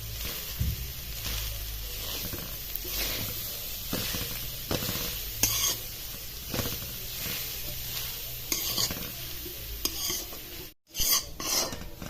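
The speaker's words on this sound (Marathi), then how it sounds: "तूप तळलं का लगेच हा पीस टाकून द्यायचा खोबऱ्याचा आणि हा पूर्ण ड्राय करून घ्यायचा एकसारखं हलवत राहायचं" Coconut pieces roasting in ghee are stirred continuously, giving a steady sizzle with rhythmic scraping strokes of a spoon against the pan, close and fairly loud, with a brief dropout near the end and no talking.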